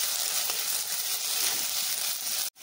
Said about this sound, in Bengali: এবার খুব ভালো করে পেঁয়াজের সঙ্গে মশলাটাকে কষিয়ে নিতে হবে